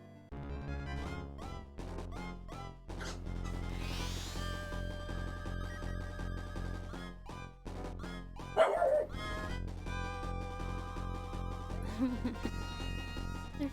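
Dogs yip, bark and whimper in a scrappy tussle over a squeaky toy, several short barks and whines over steady video game music playing throughout.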